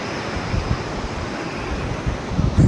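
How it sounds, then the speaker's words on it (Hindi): Fast, swollen river water after a landslide in the Himalayan mountains rushes in a loud, steady roar that fills the whole stretch, with gusts of wind buffeting the microphone and no talking. "ये नदी का देखो बहता पानी, बहुत तेज धार है"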